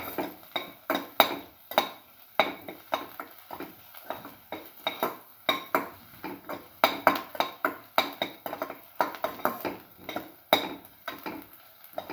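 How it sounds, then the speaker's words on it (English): Food stirred in a pot during stew cooking, a busy run of metallic spoon scrapes and clinks against the pot with faint sizzling beneath, close and steady, no talking. "Keep on stirring."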